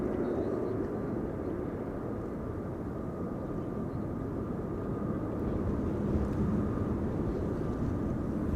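A KLM Airbus A321neo on short final into Amsterdam Schiphol, arriving from Berlin, gives a steady, fairly faint jet rumble with a thin whine that holds evenly throughout, no voices present.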